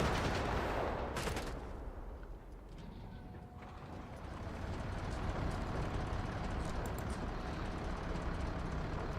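An MG42 machine gun fires in the Company of Heroes 3 video game, with rapid bursts and other battle gunfire rattling amid a busy, moderately quiet wartime soundscape.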